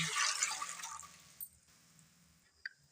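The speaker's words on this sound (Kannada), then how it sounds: "ಈಗ ನೀರು ಹಾಕ್ಯಂತ" Water poured into an idli steamer pot holding a little tamarind, a brief splashing gush at the start that quickly fades, followed by quiet with a couple of small knocks.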